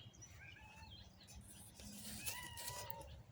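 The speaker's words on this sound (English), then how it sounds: "Oh, cat." A cat meows a few times outdoors, with soft bird chirps and tweets in the background, all fairly faint.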